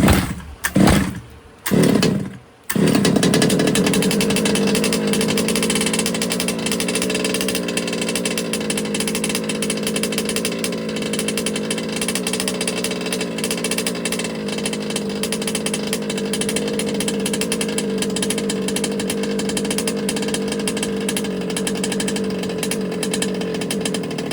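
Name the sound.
HPI Baja 5B RC car gas engine running rich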